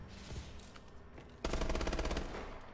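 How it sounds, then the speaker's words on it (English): Rail gun firing in a video game, a burst of rapid rattling shots starting abruptly after a short stretch of quieter background noise, loud and close. "The rail gun."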